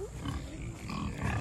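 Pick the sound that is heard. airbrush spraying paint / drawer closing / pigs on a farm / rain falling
pigs on a farm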